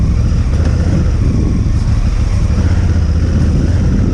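A Honda Africa Twin motorcycle ridden across mud on a country trail, its engine a steady, loud, close drone with rough low rumble and no pauses.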